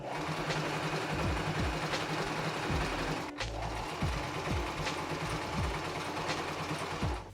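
A sewing machine running a straight stitch along a folded shirt hem hums and clatters in a fast, steady rhythm close by, pausing for a moment midway before running on.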